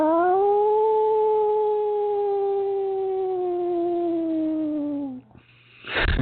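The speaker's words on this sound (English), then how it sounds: "I invite you to howl with the wolves." A single long, sustained howl rises, then holds a steady wavering pitch with clear harmonics for about five seconds before dropping off, followed by a brief burst of broad noise, like wolves howling at close range in a forest setting.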